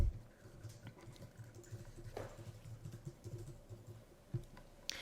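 Keystrokes tapping out an email address on a computer keyboard, a quiet, uneven patter of clicks at close range over light background hum, with no talking.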